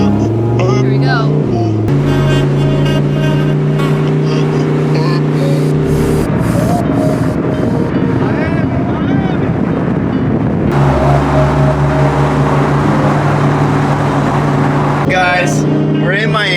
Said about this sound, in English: we're in the 2021 Lamborghini Huracan Evo. One of the hands down sickest Lamborghinis I've ever driven